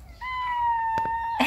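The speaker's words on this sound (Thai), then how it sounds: "ลิลลี่อยู่กับแมวเพื่อนบ้าน" A Maine Coon mix cat and a neighbour's cat, with one long, steady close meow holding for about a second, followed by a brief rustle and a short scuffle.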